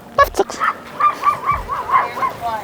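A reactive dog in training barks on command, a few quick sharp barks followed by a run of rhythmic, yelping, whimpery barks, close and loud.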